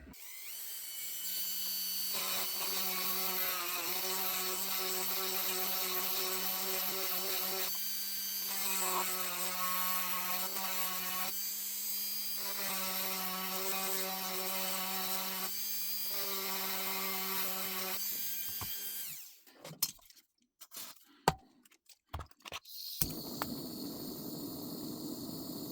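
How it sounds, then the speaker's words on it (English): A Dremel with a diamond bit grinds into an antique Maybury percussion pistol to enlarge a hole, a steady high whine that dips and rises in several passes over about twenty seconds, then stops amid scattered handling clatter; no talking. "use a Dremel with a diamond bit to hopefully enlarge that hole"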